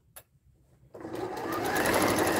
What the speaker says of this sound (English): just sew a little extra row of stitches